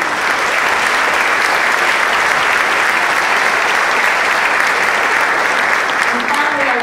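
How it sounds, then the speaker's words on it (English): Sustained applause from a concert audience at a Reading Community Singers holiday choir concert in honor of choir directors Beth and Joe, dense steady clapping filling the room throughout, with faint voices near the end. "So another round of applause for Beth and Joe."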